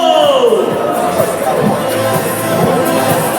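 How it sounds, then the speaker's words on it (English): A pageant audience at a male swimwear competition cheers and claps for a contestant, a dense, steady roar of crowd noise with whoops rising above it throughout. "Let's give a big round of applause to Pastor Reyes"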